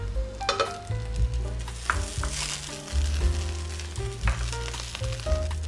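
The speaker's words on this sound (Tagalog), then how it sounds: "we need to brown the onion" Onion, garlic and tomato paste fry in a pan for butter chicken sauce, a close, steady sizzle broken by repeated scraping and stirring knocks, with no talk.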